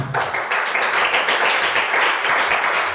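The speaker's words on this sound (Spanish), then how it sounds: "Denle un aplauso al Señor Jesús" A church congregation claps in praise of Jesus, a loud, dense burst of hand clapping that runs steadily throughout with no speech over it.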